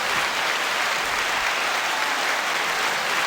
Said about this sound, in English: I think that might deserve a round of applause.